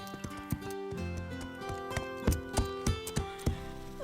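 Horse hooves clip-clopping at a walk, a series of hollow knocks in an uneven rhythm under a cartoon music bed.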